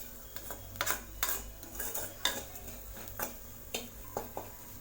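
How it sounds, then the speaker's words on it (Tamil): Masala spice powders stirred and lightly sautéed in a pan for masala sundal, the utensil scraping and clinking against the pan in repeated bursts over a faint background hum. "மசாலா பொடிகளோட பச்சை வாசம் போகிற அளவுக்கு லேசாக வதக்கி விட்டாச்சு"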